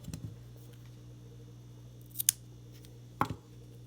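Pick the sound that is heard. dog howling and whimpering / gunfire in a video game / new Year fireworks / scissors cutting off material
scissors cutting off material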